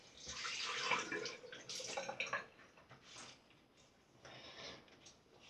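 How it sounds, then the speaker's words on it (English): Water splashes and trickles as a face is rinsed over a basin, in several short bursts of splashing that fade between scoops, close and moderately loud. "Now I'm going to rinse my face."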